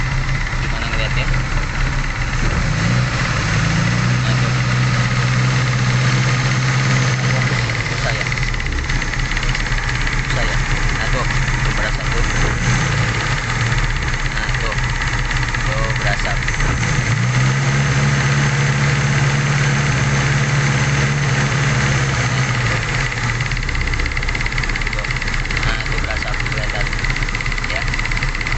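A Suzuki Carry engine with compression loss idles roughly and unevenly, a steady close-up throb with irregular stumbles and a couple of brief revs rising over the loping idle.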